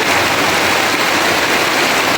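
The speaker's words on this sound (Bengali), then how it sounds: "আজকে প্রচণ্ড ঝড় বৃষ্টি হয়েছে আমাদের এখানে" Heavy rain during a strong storm at a rural home pours down as a loud, constant hiss with no breaks and no voices over it.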